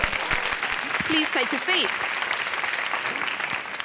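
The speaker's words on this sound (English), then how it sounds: "I think we should give the 2 standing up a round of applause" Audience applause at a career-empowerment talk, a dense wash of clapping running steadily throughout, with a speaker's voice briefly heard over it.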